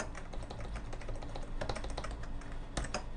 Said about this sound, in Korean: 제가 단축키를 한번 써볼게요.